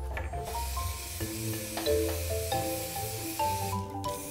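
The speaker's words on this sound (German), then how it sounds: "Sobald trocken, alles mit Farbe besprühen." Spray paint hissing in short bursts over an Easter nest craft, close and fairly quiet, with soft handling noises between sprays.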